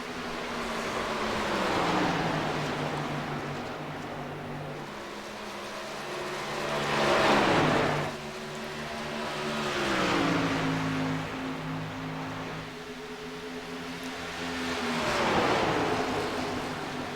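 Stock cars racing around Charlotte Motor Speedway in a sim racing game, engines droning and shifting pitch as they rise and fall through the laps, loud and continuous with no talking.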